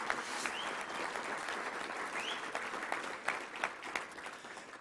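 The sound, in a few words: audience applause for volunteers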